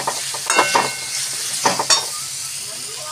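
Cashews and raisins frying in hot oil for a sweet-sour amra fruit chutney, a close, steady sizzle punctuated by several scraping stirs of a spoon against the pan.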